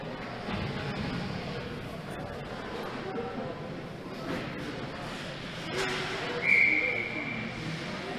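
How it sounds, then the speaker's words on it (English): At a PeeWee AAA ice hockey game in an arena, a referee blows one sharp, loud whistle blast that stands out above the crowd noise and an ongoing voice. "Whistle blown."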